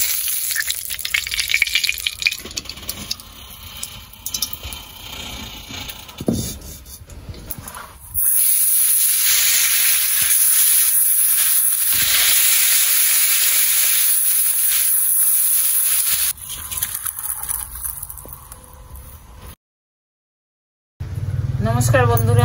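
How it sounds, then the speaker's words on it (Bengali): Oil poured into a hot wok for cooking fish curry with potatoes, giving a loud steady hiss that holds for several seconds, with cooking noises and some talk around it. "কড়াই গরম হয়ে গেছে, দিয়ে দিচ্ছি তেল"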